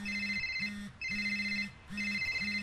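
Phone ringtone ringing, a repeating electronic melody of bright pulsed tones in regular bursts, clear and unanswered with no talk.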